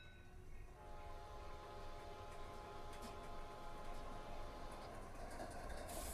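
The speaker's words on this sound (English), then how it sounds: "Sounds like we have another train getting ready to pass through." A passing train in the Run 8 Train Simulator game, with a sustained low rumble, a drawn-out horn tone and faint clacking, heard steadily and fairly quiet throughout.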